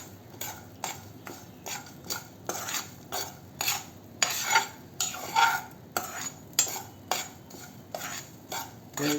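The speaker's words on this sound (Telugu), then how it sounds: "నేను సాల్ట్లో వేయిస్తున్నాను." Dried peas roasting in salt in a pan as they are stirred with a utensil, giving close, regular rattling and scraping strokes about once a second with no talk.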